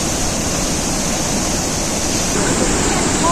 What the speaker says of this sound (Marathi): सुंदर धबधबा आहे